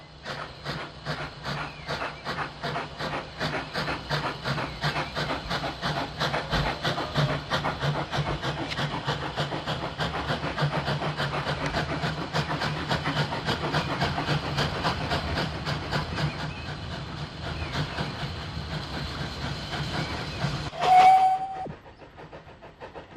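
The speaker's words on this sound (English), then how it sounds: "As the locomotives toiled up the last stretch to the summit" Steam locomotives in Ireland in the 1950s toil uphill on the last stretch to a summit, a steady loud chuffing and hissing rumble with rail noise throughout and a brief whistle-like tone near the end.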